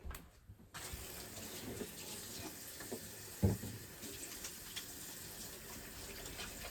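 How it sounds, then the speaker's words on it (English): Water runs from a kitchen tap as hands are washed under it, a faint steady splash with soft bumps and a brief louder slosh midway, and no voices. "let me wash my hands and get started"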